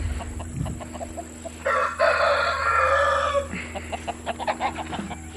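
Backyard chickens cluck in short, uneven bursts, and a rooster lets out one loud, drawn-out crow in the middle, close to the microphone against a steady low hum.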